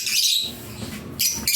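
Pet birds kept in a breeding enclosure give short, bright chirps and calls in a few bursts, close by, over a low background rumble, with no talking.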